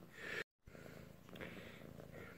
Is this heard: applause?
no